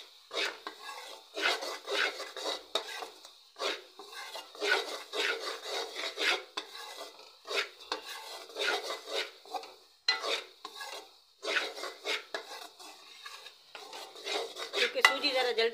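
Gram flour and semolina being stirred and dry-roasted together in a pan for besan burfi, a steady rasping, scraping spoon against metal in uneven bursts, close and fairly loud with no talk.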